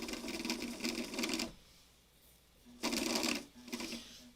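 Rapid mechanical stitching from an old Bernina sewing machine in two bursts, with a quiet pause between them and a short burst trailing at the end.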